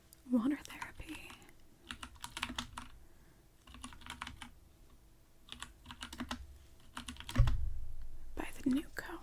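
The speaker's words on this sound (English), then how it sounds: "I'm going to try to type quietly on my loud mechanical keyboard." Keys clacking on a loud mechanical keyboard, typed softly in short bursts of close, crisp clicks with pauses between, with occasional quiet breathy whispering.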